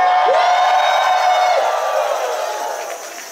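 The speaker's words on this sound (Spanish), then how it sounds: "¡Demos un grito de júbilo del Señor!" A church crowd at a charismatic renewal gathering in Chile lets out a loud, sustained shout of joy, a rising cheer and whoop that swells at once and fades slowly over a few seconds.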